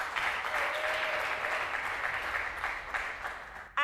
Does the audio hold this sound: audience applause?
yes